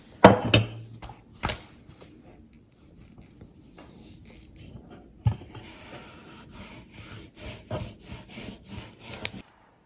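A knife cuts through a folded egg paratha on a board in a home kitchen, giving a few sharp taps and soft scraping strokes in uneven bursts, close and moderately loud with quiet gaps between.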